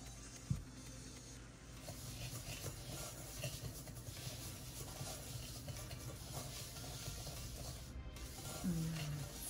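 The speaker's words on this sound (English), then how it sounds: "And then all you need to do is mix." Sugar scrub mixed with doTERRA lemon oil is stirred in a bowl, a faint, steady gritty scraping that runs throughout with no talking.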